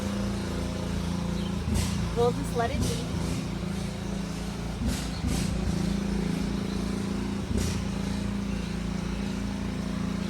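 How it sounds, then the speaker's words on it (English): A neighbor's tractor engine drones steadily in the background, a continuous low mechanical hum that runs beneath a person speaking calmly throughout. "Just going to speak over my neighbor's tractor."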